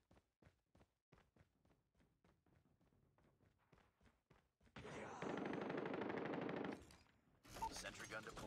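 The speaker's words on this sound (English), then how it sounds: "Sentry gun deployed." A sentry gun firing in the Call of Duty Mobile video game: a rapid run of sharp shots that builds into dense, loud sustained automatic fire, then a brief pause and another burst.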